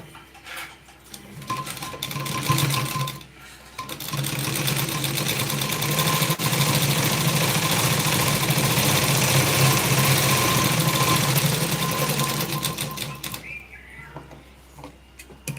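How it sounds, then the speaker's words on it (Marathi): An electric sewing machine stitching a hook strip for a blouse, starting with a short run, pausing, then a long steady whirring burst of rapid stitching that slows and stops near the end. "आता आपण दुसरी टीप घेऊया या बाजूने"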